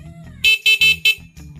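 The stock horn of a Yamaha Mio i 125 scooter blares in four close, loud, short honks, followed by a fainter fifth beep, with a scooter idle rumbling between them.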